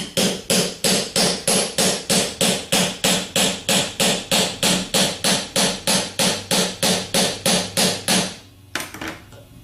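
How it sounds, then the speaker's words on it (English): A hammer taps a bearing onto the rotor of an AD series GM alternator in about thirty evenly spaced, sharp metallic blows, loud and close. A softer clatter follows after the strikes stop. "As you're tapping the bearing on, it should only be contacting the inner race."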